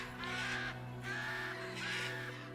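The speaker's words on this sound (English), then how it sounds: "You don't need to be that scared, it's just a bird." A bird in the Utawarerumono: Mask of Deception video game gives three evenly spaced, loud raspy caws over a steady low background hum.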